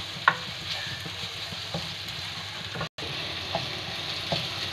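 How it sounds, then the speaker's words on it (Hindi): Chopped tomatoes and onions frying for goat kaleji, a continuous hiss of sizzling oil with occasional spoon stirs and taps against the pan, close and steady. "अब हम इसमें टमाटर शामिल करेंगे। 2 बड़े साइज के काट लेने हैं आपने। इनको अब अच्छे से हम भून लेंगे।"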